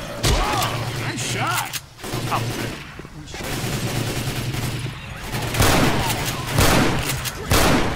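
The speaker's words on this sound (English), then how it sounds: "Shotguns," Shotgun fire in the zombie shooter Left 4 Dead 2 No Mercy campaign, repeated heavy blasts and bursts in uneven rhythm, loud and close, with players talking over the gunfire.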